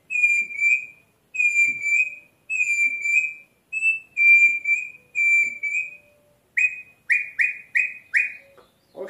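A bird-call whistle is blown in a series of short, clear tweets, several steady notes and then a quick run of rising chirps, close and loud.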